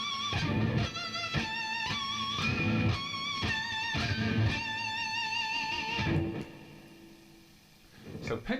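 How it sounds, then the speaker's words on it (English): An electric guitar plays a lead lick full of pinch harmonics, with squealing high overtones ringing above picked notes before the phrase fades out. "our 10th vital lead guitar technique is the pinch harmonic."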